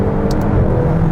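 A McLaren GT's engine roars loudly and steadily on the road, a dense low growl through the whole moment, with a couple of short sharp crackles from the exhaust while downshifting.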